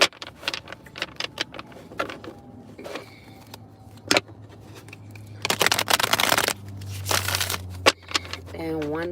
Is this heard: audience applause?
no